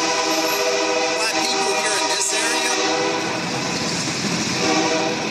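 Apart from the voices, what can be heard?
train passing in the background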